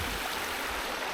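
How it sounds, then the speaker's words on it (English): A brook flows beside a campsite fire pit in the North Maine Woods, a steady close rushing and babbling of water with no voices. "The fire pit's right by this brook, stream, whatever you like to call it."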